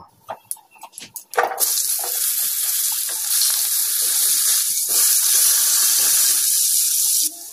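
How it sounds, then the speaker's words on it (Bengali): Panch phoron spices hitting hot oil in a wok: a few clinks and taps, then a sudden loud hiss that settles into steady, close sizzling. "কড়াটাকে পরিষ্কার করে নেওয়ার পর একটু পাঁচফোড়ন দিয়ে দিলাম"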